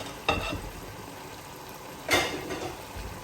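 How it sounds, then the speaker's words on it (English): A spoon stirs eggplant sauce with ugu leaves and fried fish in a pot, a low steady simmer with two soft scraping stirs. "we just mix everything together. Stir it gently because of the fish."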